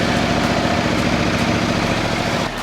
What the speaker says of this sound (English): We're gonna start it up, let the engine oil cycle through for a few minutes, shut it back off